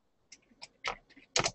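Keys on a computer keyboard are tapped in a short, uneven burst of about five quiet clicks, close by, the last press slightly louder.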